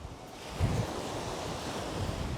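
Steady surf rolls in at a Yucatán beach in San Benito, a broad continuous wash of waves mixed with wind buffeting the microphone, with no distinct breaks between swells.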